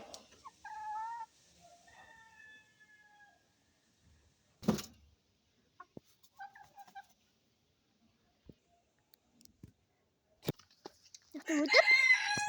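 Japanese chickens, two hens and a rooster, give a few scattered clucks and brief crowing calls at close range amid long quiet gaps, with a couple of sharp knocks and some faint voices nearby.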